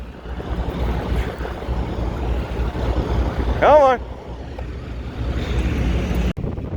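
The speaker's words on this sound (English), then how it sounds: "I know it's a little bit breezy, so you might not be able to hear me so well" Wind blows at a highway rest area off I-80 in Wyoming, a steady broad rumble and buffeting on the microphone throughout, with a brief voice in the middle and a sudden cut near the end.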